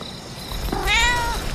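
A cat in a film gives a single clear, drawn-out meow that rises and then falls, fairly close and loud, over a low background rumble with no talk.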